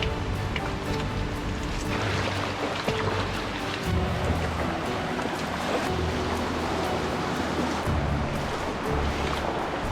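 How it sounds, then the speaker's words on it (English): Rushing water from waterfalls and deep pools along a wet Australian mountain track, heard as a steady, loud wash of noise throughout, with a low engine hum from a Nissan Patrol underneath. "It's like waterfall after waterfall"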